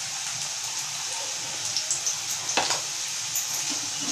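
Chopped onion sizzling and frying in a hot pan with salt, a steady crackling hiss with a few stirring scrapes partway through, close and fairly loud for a spicy Indian chicken gravy.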